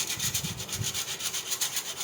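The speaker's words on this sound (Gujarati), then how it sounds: "આ રીતે ચારણાની મદદથી આપણે જાયફળને ઘસી લઈશું।" Rhythmic scraping strokes of whole nutmeg rubbed against a sieve, close and soft, in a steady back-and-forth pattern.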